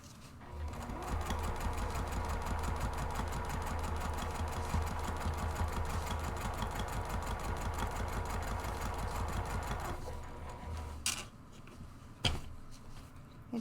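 A sewing machine stitching through foam for a purse organizer runs in a steady rapid whir of needle strokes for about ten seconds, close and loud, then stops, followed by a few clicks and handling knocks.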